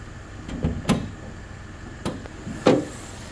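Hood of a 2011 Mercedes GL450 4MATIC SUV with a 4.8 V8 being unlatched and raised: a few soft clunks and latch clicks, with a firmer knock near the end, close by and without talk.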